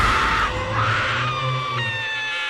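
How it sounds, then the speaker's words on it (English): A high-pitched, maniacal horror-movie-style scream rings out loud and sustained, wavering in pitch across a couple of seconds with no talk over it. "she broke out in this extremely loud, high-pitched maniac scream"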